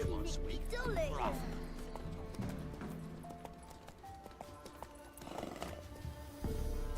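Hooves clip-clop as a horse is ridden in The Witcher 3: Wild Hunt, with a neigh early on, game music in the background and a voice speaking over it.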